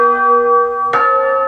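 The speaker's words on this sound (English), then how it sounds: "Chimes." Chimes voice on a Yamaha CVP705 Clavinova digital piano: sustained bright bell tones ring steadily, then a second chime struck near the end rings out clearly and alone, with no talking.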